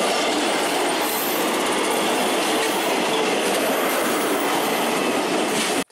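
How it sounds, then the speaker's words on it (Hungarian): A Russian-made diesel train rushes past at close range on a summer evening, a loud continuous roar with wheel clatter and faint squeal that cuts off abruptly at the end. "orosz gyártmányú uzsgyi."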